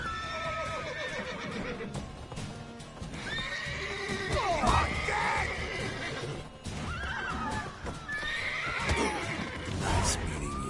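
A horse in The Witcher 3 neighs loudly in repeated whinnies over clip-clop hooves and game sounds, fairly close and continuous.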